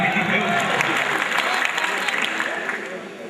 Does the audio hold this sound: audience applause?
yes